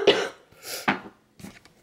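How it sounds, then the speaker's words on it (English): A woman gives a few harsh, dry coughs with brief pauses between them, close and fairly loud, with no other sound around them. "if I could stop coughing"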